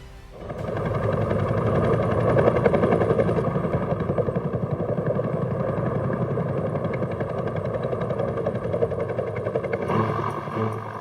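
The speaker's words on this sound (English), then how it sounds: "The Bell UH-1 Iroquois helicopter, universally known as the Huey" A Bell UH-1 Huey helicopter's rotor thuds loudly and rhythmically nearby, a sustained chopping beat over a heavy engine drone.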